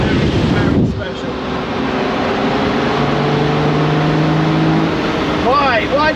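A Lamborghini Murcielago Roadster with a V12 engine and a gated six-speed manual drives along, giving a steady engine drone under heavy wind buffeting, with a brief louder swell at the start.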